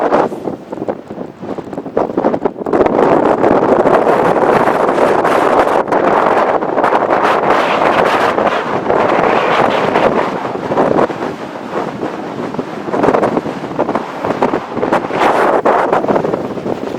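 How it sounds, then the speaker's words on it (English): Strong wind buffeting the microphone on an exposed Welsh hilltop between Twmpa and Waun Fach, a loud continuous roar with gusty surges and no talking. "It's a wee bit breezy."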